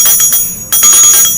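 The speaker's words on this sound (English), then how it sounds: "will you grab the bell?" A handheld bell rings loudly during a live gem and mineral sale show, a rapid series of bright metallic strikes with a brief pause midway before ringing resumes.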